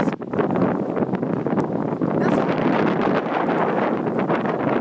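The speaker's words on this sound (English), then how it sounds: "And then it's really windy." Strong wind roars steadily across the microphone in a snowstorm, a dense broadband rush with gusty swells and no clear pauses.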